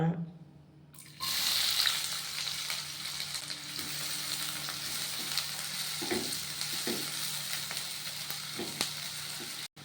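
Steady sizzling of onions frying in a pan, with occasional stirring scrapes and a faint background hum, continuous for several seconds.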